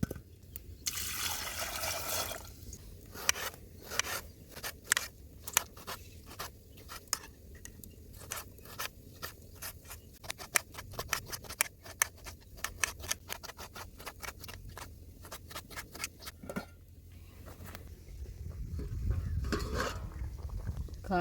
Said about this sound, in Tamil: சாம்பாருக்கு தக்காளி பழம் நறுக்கி போட்டுக்கலாம்.